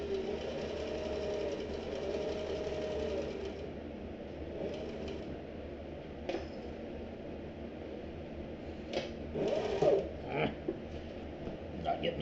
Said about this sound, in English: I'm making sure that this stitch line is on the outside of my original seam.